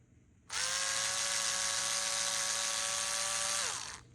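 A power screwdriver whines steadily for about three seconds while backing screws out of the ECM on a Traxxas TRX4M, starting abruptly, holding a high buzzing tone, then winding down and stopping.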